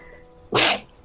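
A single sharp sneeze, close and loud, bursting out of a quiet room backdrop and fading within a moment, with no talk over it.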